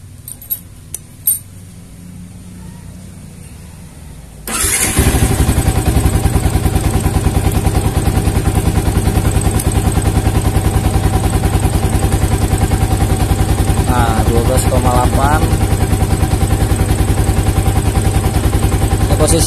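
After a few faint clicks, an old Yamaha Vixion motorcycle engine starts abruptly and settles into a steady, loud, close idle with a constant rapid throb that continues to the end.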